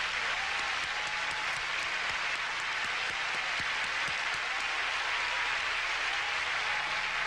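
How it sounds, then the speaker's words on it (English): Audience applause for the Miss Universe 1989 pageant contestants, a sustained steady wash of clapping from a large crowd, loud and continuous throughout with no talking over it. "Ladies and gentlemen, please join me in applauding all the contestants for the title of Miss Universe"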